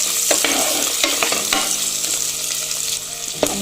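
Tomato, onion and garlic stirred in a hot pot for a beef tomato sauce, a steady sizzle of frying with scraping and clinking stirs on top, close and loud with no voices.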